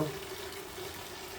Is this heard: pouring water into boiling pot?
yes